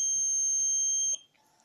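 Steady electronic alarm buzzer from a car's automatic drunk-driving prevention system, a loud continuous high-pitched tone that holds for about a second before cutting off, leaving faint low sounds behind.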